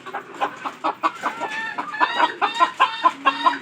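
Chickens clucking close by in a coop kept alongside pigeons, a busy run of rhythmic repeated clucks, loud and clear with no talking.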